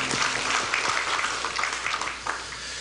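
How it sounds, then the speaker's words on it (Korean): A church congregation claps together during a Sunday sermon service, a steady wash of applause from many hands spread across the sanctuary, fairly even and moderately distant. "박수 올려드리시겠습니다"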